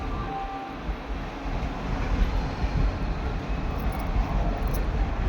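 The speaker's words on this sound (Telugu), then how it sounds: "రైల్వే స్టేషన్ కాడ ఇది" A steady low rumble of rail traffic fills the ambience at a railway station, holding broad and fairly loud for several seconds with no clear voices.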